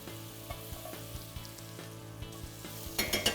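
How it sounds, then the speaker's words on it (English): Butter browning in a hot pan for steak, with fresh rosemary and garlic, a low steady sizzle under a faint hum, with a few light taps and a louder crackling burst at the end. "We're gonna go in with our butter, and we're just gonna brown this butter up."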